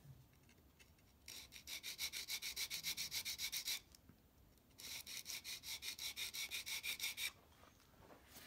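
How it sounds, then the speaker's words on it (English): Sandpaper rubbed back and forth on a part of a swivel breech rifle kit, giving two long runs of fast, rhythmic rasping strokes separated by a short pause, close and clear. "Now, I think we're ready for sandpaper on that."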